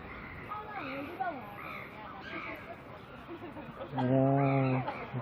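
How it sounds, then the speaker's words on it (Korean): Crows caw several times at a middle distance by Inya Lake in Yangon, Myanmar, while someone talks, and a loud harsh caw rings out near the end. "아 근데 까마귀 때문에 너무 시끄럽다"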